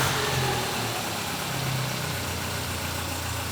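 A car engine, its timing belt about twenty years old, idles with a steady even drone and a low, faintly wavering hum throughout, close and uninterrupted.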